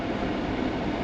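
An air conditioner fan runs indoors with a steady, dense whooshing hum that stays close and constant without any breaks.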